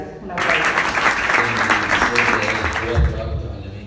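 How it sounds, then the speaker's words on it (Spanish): Audience applause fills a lecture hall after the introduction of a talk on the sea in Canary Islands poetic tradition, a dense, steady clapping that starts abruptly and holds loud throughout, with a low murmur of voices beneath. "Un aplauso."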